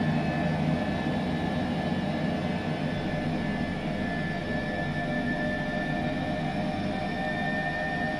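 An H135 helicopter hovers in Microsoft Flight Simulator over Orbx Melbourne, a steady, loud turbine whine and rotor drone with a constant tonal hum throughout and no voices.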